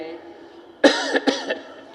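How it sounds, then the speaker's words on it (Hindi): A couple of short coughs break out close by during a yoga breathing exercise, following a low breathy hum. "खांसी आ रही"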